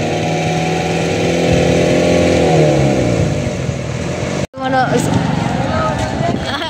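A motorcycle engine runs steadily as it is parked, its hum heard under a person talking, then cuts off abruptly partway through before a short rattle.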